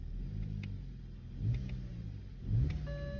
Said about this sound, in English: The car started. Revs?